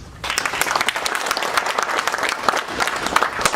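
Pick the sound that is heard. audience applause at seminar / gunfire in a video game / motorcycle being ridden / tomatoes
audience applause at seminar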